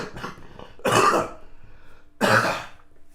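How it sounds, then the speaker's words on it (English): A person with a lingering cough coughs twice in hard, harsh bursts, about a second apart, with quiet room noise between them and no talking. "This cough is just not going away"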